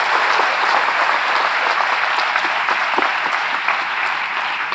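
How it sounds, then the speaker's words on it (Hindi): Loud sustained applause from an audience at a ceremony honouring former soldiers and cadets, with dense, steady clapping throughout. "जिनकी ड्रिल अच्छी थी उनके लिए जोर से ताली बजाएं"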